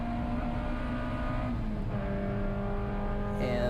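A race car at Road America climbs the hill under power with a steady, droning engine note whose pitch edges upward near the end, heard close with no talk.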